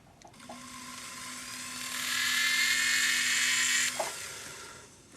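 A small rotary drill with a 1 mm bit whines steadily as it bores through a bead for a single-bead ring, the tone rising slightly partway through before it spins down, close and alone with no talk.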